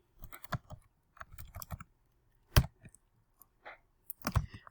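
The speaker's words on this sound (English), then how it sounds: "let's go over to Excel and type that in." Keys clatter on a computer keyboard as a formula is typed into Excel, quick irregular bursts of close, crisp clicks separated by short pauses.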